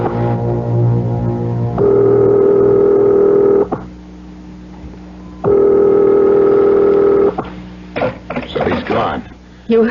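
A telephone dial tone in an old radio drama sound effect, a steady hum that comes in two long stretches, with short clicks and rustles of dialing following the second.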